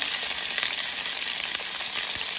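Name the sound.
squid stir-frying, sizzling in hot pan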